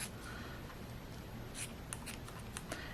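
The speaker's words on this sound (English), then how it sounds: "I'm just going to cut them apart and probably just cut them into 4ths real quick" Scissors snip through sheets of paper doodles, several quick crisp cuts clustered in the second half, close and quiet with no talking.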